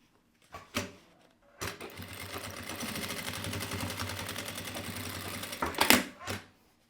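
Sewing machine running in a steady rapid stitching burst of about four seconds as it sews a fabric lining, bracketed by brief handling thumps before and after.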